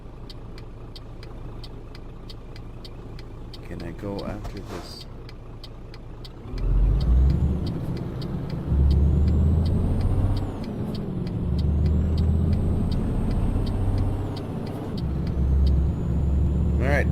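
Road traffic in Euro Truck Simulator, a steady engine drone and rumbling vehicles with a hiss like an air brake, loud and continuous while someone talks.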